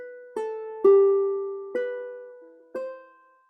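Guitar playing bar 8 into bar 9 of a piece: four clean plucked notes struck at an unhurried pace, each ringing and decaying before the next, close and solo with no voices.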